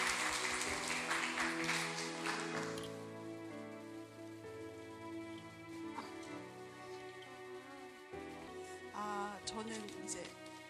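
A congregation at a Sunday church service at Jeju Light Church applauds, with a burst of clapping in the first seconds that fades under sustained music and voices, faint overall.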